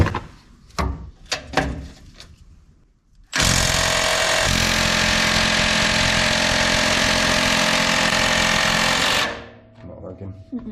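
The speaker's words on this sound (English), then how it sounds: "May need to switch the battery out in the old Milwaukee because it's not busting this one loose" A Milwaukee battery impact wrench hammers continuously for about six seconds on a stubborn bolt that won't break loose, loud and close, preceded by a few short bursts and clanks.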